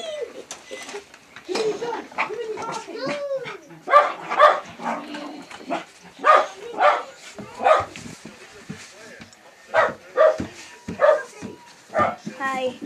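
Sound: dog barking

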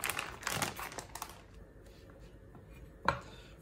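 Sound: knife chopping ingredients into small pieces

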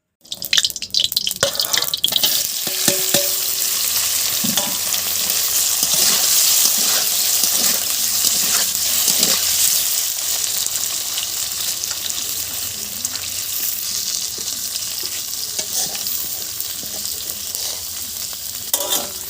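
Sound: paneer pieces frying in oil

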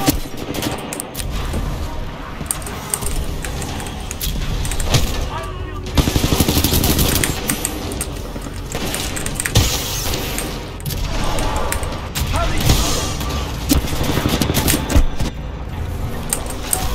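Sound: gunfire from video game Titanfall 2

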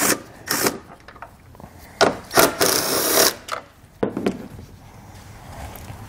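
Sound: removing two 10 mm taillight bolts

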